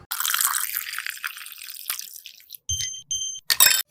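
Bitter gourd juice is poured, giving a bright, splashy liquid rush up close that fades into a thin trickle, then stops. A few short, sharp bursts of sound follow near the end.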